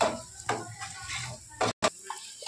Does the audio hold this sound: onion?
yes